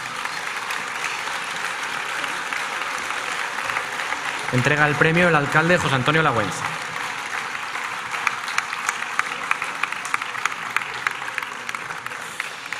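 A festival prize-giving audience keeps up sustained, dense applause for a young winner. Someone speaks over it midway, and the clapping continues with a few sharper claps near the end.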